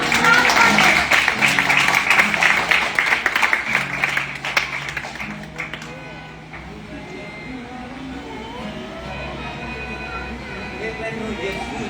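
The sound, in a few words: audience applause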